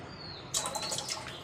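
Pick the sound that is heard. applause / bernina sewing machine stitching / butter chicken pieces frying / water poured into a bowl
water poured into a bowl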